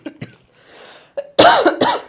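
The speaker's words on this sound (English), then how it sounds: "I almost died on a pork rind earlier today, and I'm still coughing from it." Several close, harsh coughs from a person, a few short ones followed by a louder, rougher burst, with a brief throat sound between them.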